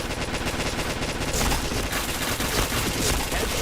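Dense, continuous automatic gunfire from a shooting game, rapid overlapping shots with no pauses throughout, loud and close.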